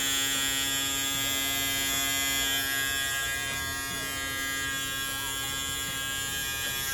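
A steady Andis Resurge cordless electric shaver buzz runs close up and unbroken, a constant motor whine with a humming undertone.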